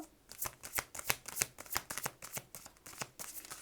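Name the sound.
shuffling and drawing cards during a card reading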